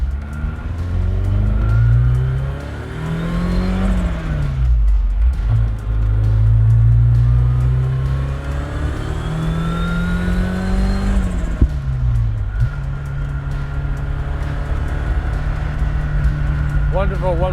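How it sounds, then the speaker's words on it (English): A 1986 Ford RS200's 1.8-liter turbocharged four-cylinder engine rumbles steadily, its pitch climbing and dropping with throttle changes across several revs, close and loud throughout. "It's got a great exhaust note when you lift off the throttle on a pleasant day."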